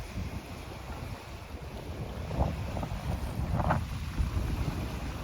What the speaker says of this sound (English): And we have a nice breeze.